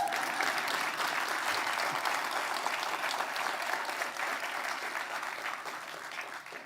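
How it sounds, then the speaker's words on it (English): Audience applause at a TEDx talk, a full hall clapping steadily at moderate level, gradually tapering toward the end. "You can clap."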